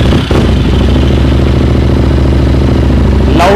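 A 2019 Harley-Davidson motorcycle in mint condition idles with a loud, steady, deep throbbing rumble and mechanical clatter, close by. A brief rev opens the stretch and another burst closes it.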